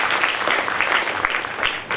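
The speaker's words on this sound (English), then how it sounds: "can we have a huge round of applause for CA Mangesh sir?" An audience at a chartered accountants' institute branch event claps for an honored guest, a lively burst of many hands close by that thins out toward the end.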